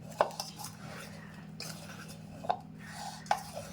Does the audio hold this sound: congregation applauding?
no